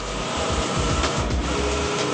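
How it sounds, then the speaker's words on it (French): A printer prints a design onto adhesive paper, giving off a steady, dense mechanical whir and rumble with faint rhythmic clunks underneath, constant and close, with no talk. "L'imprimante reproduit le modèle sur un papier adhésif."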